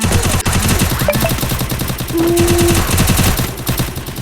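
Rapid automatic gunfire in the mobile shooter game Free Fire MAX, loud and close, a dense rattling burst of shots running continuously with brief tonal game effects layered in and no talk.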